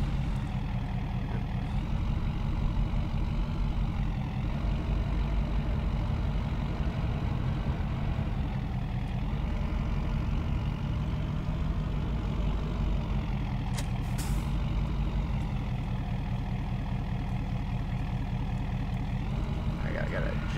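A Chevy truck's engine idling low and steady while towing a camper in Farming Simulator 2019, a constant heavy rumble throughout with a brief hiss near the middle and a voice talking over it.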